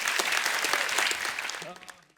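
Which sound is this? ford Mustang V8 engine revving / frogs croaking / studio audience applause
studio audience applause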